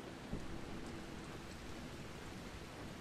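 Steady rain falls in the video game Dying Light, a constant hiss of broadband noise, fairly quiet and even throughout with no voices.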